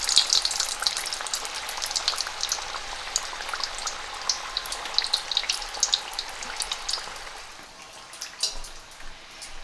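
Samosas being half-fried in hot oil give a continuous close sizzle, full of fine crackles and pops, that eases slightly near the end.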